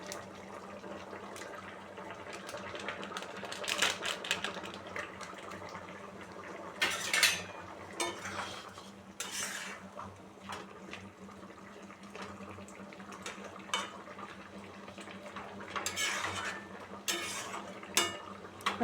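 Home-style chicken curry stirred in a pot, with faint scattered clinks and scrapes of a spoon against metal over a low steady background hum, quiet and intermittent.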